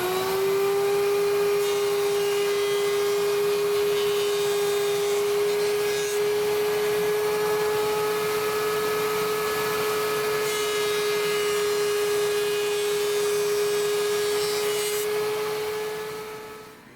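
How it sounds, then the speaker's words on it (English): A wood planer running as frame boards are fed through it, a steady, loud motor whine with a strong constant hum, cutting noise throughout, then winding down at the very end. "run this through the planer so that we get even dimensions for a starting point"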